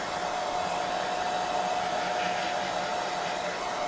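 A hair dryer drying watercolor paint on paper blows with a steady, loud whooshing roar and a constant motor hum, running alone with no pauses or talking.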